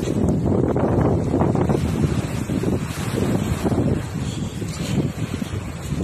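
Strong sea wind on the Thai coast near Pattaya during oyster hunting buffets the microphone with loud, continuous low rumbling gusts, with waves faintly beneath and no talking.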